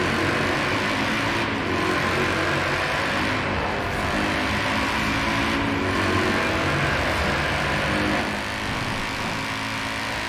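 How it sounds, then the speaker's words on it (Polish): A VW Golf IV's V engine in Forza Horizon 4 drones loud and steady, holding a continuous high rev with small dips, with no talk over it. "Ale to V-ka brzmi tak samo w innych samochodach."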